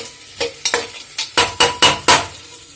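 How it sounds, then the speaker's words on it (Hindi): Rice grains hiss and crackle in a hot pan in a quick run of bursts as they are stirred and tempered, close and fairly loud, with no talking. "चावल को छोक रही है"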